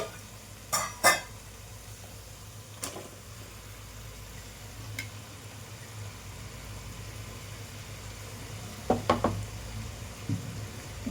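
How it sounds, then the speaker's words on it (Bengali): Poppy seed paste with green chilli cooks in a pan with a steady, soft sizzle and a few scattered clinks of a spatula against the pan, with no voices. "এবার পোস্ত দিয়ে এটাকে ভালো করে কষিয়ে নিতে হবে।"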